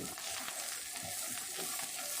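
Masala and onions are stirred and fried in a pan for beef kala bhuna, giving a steady close sizzle with soft scraping of the spoon and no talking.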